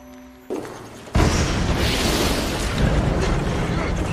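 A tripwire-triggered landmine explodes in a war film, a sudden loud blast followed by a sustained, dense roar of debris and rumble that fills the remainder.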